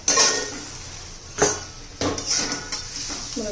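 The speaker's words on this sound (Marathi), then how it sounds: "तर हे पण झाकण काढून चेक करूया" A metal lid lifted off a pan of cooking chillies, with several sharp clanks and rattles of metal against metal over a faint steady sizzle.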